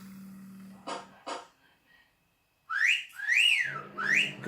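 Whistle sound effect from a ticket-based video game: two short blips, a pause, then rising-and-falling whistle tones in quick succession, clear and close.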